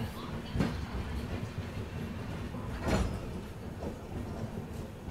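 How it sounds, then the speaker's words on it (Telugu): A passenger express train pulls out of a station, a steady rumble with rhythmic clunks of wheels over rail joints and a few louder knocks, heard from on board. "మన ట్రైన్ డిపార్ట్ అవుతుంది"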